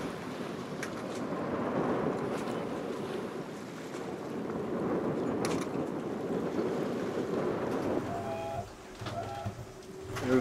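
A sailboat under main and mizzen sail out on the open Atlantic, with steady wind and water rushing past the hull, broad and continuous, with a few faint bird-like chirps near the end.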